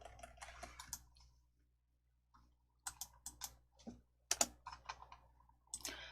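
Someone types a document on a computer keyboard in quiet bursts of soft clicking keystrokes with short pauses, close but low in level, and no one speaks over it.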